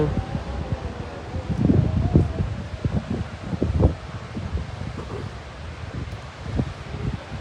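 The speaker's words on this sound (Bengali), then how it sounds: "বাতাস রয়েছে" Wind at a rough seashore at Kumira-Guptachhara ghat as the tide comes in, a steady gusty rush buffeting the microphone, with low thumps and swells rising and falling throughout.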